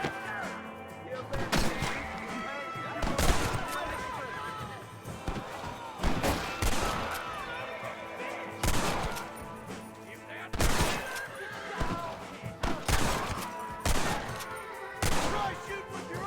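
Red Dead Redemption gunfight with repeated loud gunshots fired in irregular clusters alongside occasional crashing and shattering impacts, spread across the whole stretch, with voices and game chatter mixed in between shots.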